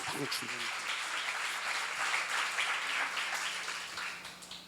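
A church congregation at a Korean seminar sermon applauds together, a soft, steady wash of clapping heard at a distance and fading toward the end.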